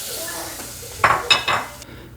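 Minced meat with onions and habanero pepper being broken up in a pan, a soft low sizzle followed by three sharp scraping clatters of a utensil against the pan.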